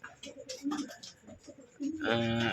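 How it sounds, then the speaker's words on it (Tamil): A male karna pigeon with a crest cooing, soft low coos close by among other birds' sounds, ending in a louder burst of noise. "இது கொண்டையிலே ஆண் இருக்குது, கர்ணப்புறா தான் இது."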